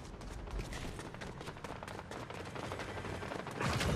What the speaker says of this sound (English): I hear a lot of shots over here